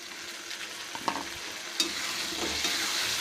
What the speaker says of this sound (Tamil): இப்போ தக்காளி நல்லா வதங்கணும்.